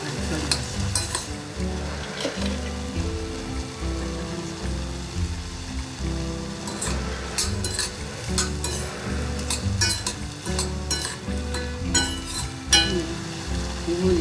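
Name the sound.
peanuts stir-frying and sizzling in soy sauce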